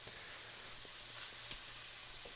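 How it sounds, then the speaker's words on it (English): Ground meat sizzles in a pan while cooking spaghetti meat sauce, giving a steady, close hiss of frying with a low hum beneath and a few faint pops, no voices. "oh, it's starting to sizzle again"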